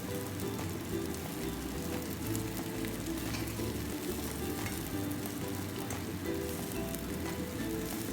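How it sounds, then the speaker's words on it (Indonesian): Steady, close sizzling and crackling of Taiwanese turnip cake frying in hot oil over low heat, a dense continuous hiss with small pops throughout. "Kemudian panaskan minyak dan goreng sampai matang."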